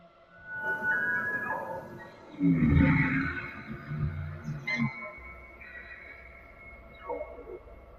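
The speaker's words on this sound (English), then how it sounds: "a low growl echoed from the shadows" A low creature growl rumbles from the shadows of a silent nighttime forest, a deep rough burst rising and fading among quieter sounds, with a narrating voice present.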